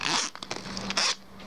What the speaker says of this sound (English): So let's open it. Like with the zipper.